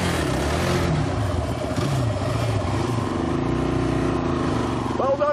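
A Honda quad bike's single-cylinder 450cc engine runs loud and close throughout, a steady off-road drone with slight rises in pitch.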